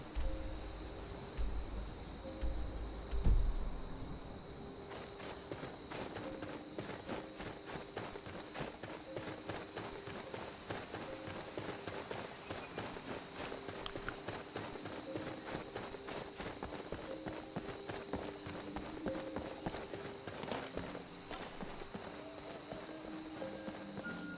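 In Skyrim with the Requiem mod, a horse runs with steady rapid hoofbeats that continue throughout, moderately quiet under a constant game ambience.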